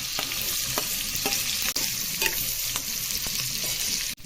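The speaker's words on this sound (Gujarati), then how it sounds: "હિંગ એડ કરીશું તેમાં ડુંગળી" Sliced onion frying in hot oil with asafoetida for a Gujarati bitter gourd and onion curry gives a steady, close sizzle, with a spoon scraping and stirring the pan at regular intervals.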